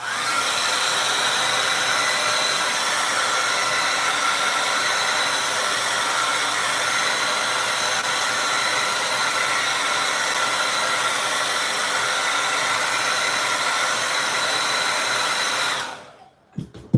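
A hair dryer blows steadily and loudly close by, drying acrylic paint on a painting of a basset hound, a continuous broadband roar lasting about sixteen seconds before it cuts off abruptly at the end.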